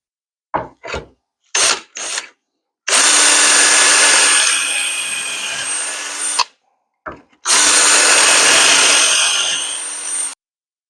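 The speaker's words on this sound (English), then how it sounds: "Drill out our pocket holes." A power drill whirs through a wooden patio table board in short bursts, then two long steady pocket-hole drilling runs with a grinding bite, loud and close.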